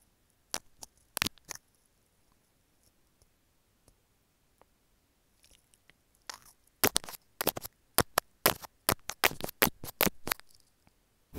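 Crunchy bites and chewing of a hard snack, eaten close to the mic as ASMR, come in a few sharp crunches early, then a dense run of loud, rapid crunching with quiet pauses between.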